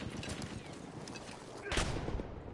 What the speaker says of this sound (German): wieder mit der Pumpgun